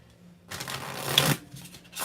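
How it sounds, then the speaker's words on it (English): Tarot cards shuffled like a poker dealer does it, a dense riffling rush of about a second, close and clear over quiet background noise. "I shuffle like a poker dealer"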